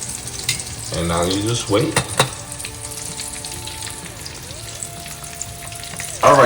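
Small fish frying in a pan with a steady oil sizzle, punctuated by clatter and a louder burst near the end, while a person speaks briefly over it.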